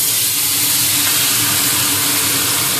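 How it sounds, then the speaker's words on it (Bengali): Fish dropped into hot oil in a wok, sizzling and hissing loudly and steadily from start to finish, close up, with no talk over it. "তেল গরম হয়ে গেছে, আর হচ্ছে এই মাছগুলো এখন দিয়ে দেব।"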